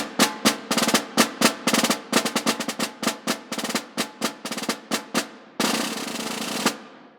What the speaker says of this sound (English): Now the snare drum gets its name from the wires that go across the bottom of the drum called snares.